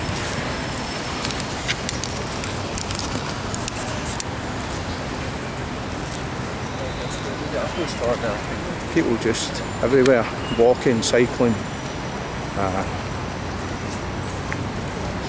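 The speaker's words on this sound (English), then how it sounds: "if you can hear the traffic starting to die down a little bit" Steady city traffic noise rolls on at a moderate distance, heard from a busy park in New York while people walk and cycle nearby. Someone talks over it throughout, and a few brief brighter sounds stand out partway through.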